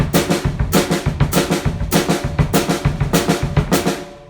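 Full drum kit pattern with both feet working bass drum and hi-hat pedal, a dense, loud repeating groove of kicks, snare cracks and cymbal wash cycling every beat before fading at the end.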